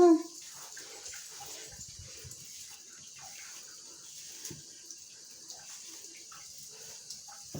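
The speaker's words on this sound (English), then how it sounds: "Hear my bathtub leaking?" A leaking bathtub drips water in a quiet bathroom: faint scattered drips and soft trickling over a low background hiss, with one louder splash at the start.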